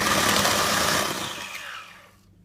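An electric hand mixer beats cake batter, a loud whirring drone that runs steadily, then winds down and stops at the end.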